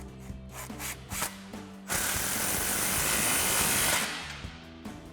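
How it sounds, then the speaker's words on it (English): Impact wrench with a 16mm socket tightening an exhaust clamp on a 2021-2024 Ford Bronco, close up: a few ratcheting clicks, then a sustained whirring hammer burst of about two seconds that winds down. "tightening everything down using our impact and 16mm socket"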